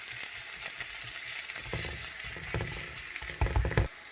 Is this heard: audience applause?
no